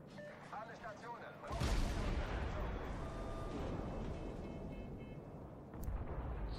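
Naval gunfire in World of Warships, a sudden heavy boom of a salvo followed by a long rumbling roll, loud and close, with game tones and a voice faintly underneath.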